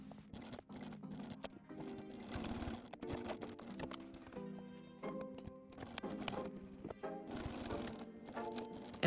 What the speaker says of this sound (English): Top stitch once you have pressed along the bottom gusset.